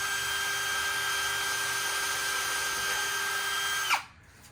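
A power drill driving screws into wood for table casters, a steady whining motor hum held for about four seconds before it winds down abruptly and stops.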